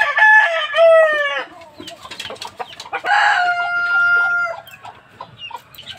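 White Aseel chickens crow in drawn-out calls, with clucking and short squawks between them, loud and close.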